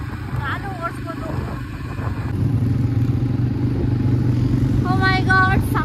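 An off-road vehicle's engine roars steadily on open desert safari dunes, a continuous mid-pitched drone with clattering bumps, while voices talk and exclaim over it.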